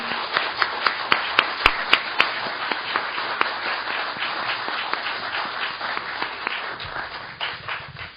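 An audience at a policy forum in the Korean National Assembly applauds steadily, crisp overlapping claps that are loud at first and then fade over several seconds.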